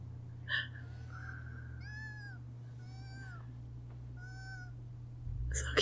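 An anime cat from a Boruto episode meows several times in a row, with short high mews spaced about a second apart, clear and fairly quiet over a low steady hum.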